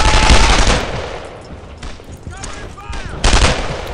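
Rapid bursts of automatic gunfire and scattered shots from the World War II shooter Brothers in Arms: Earned in Blood, loud at first, then easing off and flaring again, with faint game voices in between.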